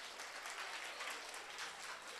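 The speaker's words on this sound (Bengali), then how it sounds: "একটু জোরে মেয়েরা একটু হাততালি দাও" Girls clapping their hands at a school prize ceremony, a quiet, even wash of many hands heard from a distance with no talk.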